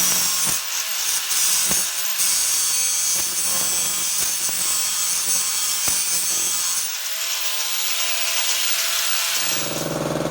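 A 12 mm steel socket clamped in a vise is slit with a saw or cutting tool while working on a Polaris carburetor; a steady, rasping cut runs close and loud almost without pause, with no talking.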